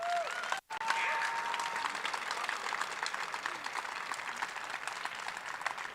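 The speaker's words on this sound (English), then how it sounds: "Give them a round of applause, please." A crowd applauds esports teams at a state tournament opening ceremony, steady dense clapping that holds loud throughout with a brief dropout near the start.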